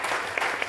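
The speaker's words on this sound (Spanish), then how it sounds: "Un aplauso para ellos una vez más, agradeciendo esta participación." Brief clapping from the audience at a public-sector modernization panel at the EISACH 2023 event, a short dense patter of many hands at moderate distance.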